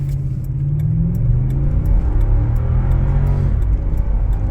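Lexus GX 460 with a V8 engine accelerating hard from a standstill to 40 mph, a steady, loud engine roar with rising tones and road rumble that continues without a break, with no voices.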